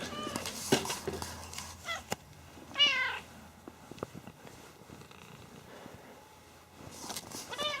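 Pet cats at home waiting for a Friday night treat meow clearly twice, once in the middle and again near the end, with soft purring and light footsteps around them.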